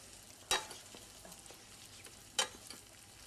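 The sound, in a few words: stirring spaghetti Napolitana sauce in a pan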